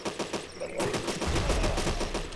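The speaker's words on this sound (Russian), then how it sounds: "Почему сундук взрывается, мне интересно." A chest explodes in the zombie survival video game Deadly 30: a rapid string of sharp, loud cracking bursts, followed by a heavier low rumble that builds and lingers, with no talk.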